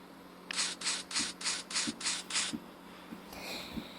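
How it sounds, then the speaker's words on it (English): Seven quick rhythmic brushing strokes, evenly spaced and fairly close, followed by a softer scrape, over a quiet background hum. "even the sweeping."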